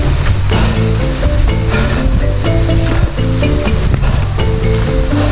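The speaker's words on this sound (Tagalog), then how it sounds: "Yun yung falls." Palale Falls in Albay, running with a low water flow, gives off a steady, loud, continuous rush of falling water with a tonal musical layer over it.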